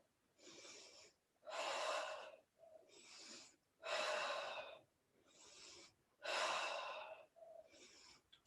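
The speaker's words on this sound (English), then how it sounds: "Inhale, exhale." Slow, deep breaths in and out during a pilates exercise, each breath a loud, airy rush of about a second, alternating with short softer breaths and pauses, close and without speech.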